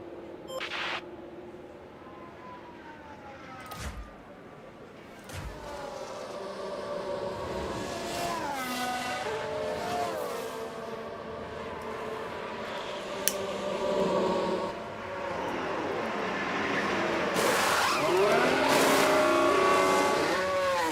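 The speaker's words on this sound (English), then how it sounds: "Perez comes into the pits now." Formula 1 car sounds from F1 Manager 24 during a pit stop sequence at the Circuit of the Americas, with sustained engine whine and pitch sweeps as the car enters the pits.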